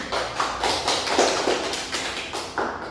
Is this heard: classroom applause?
yes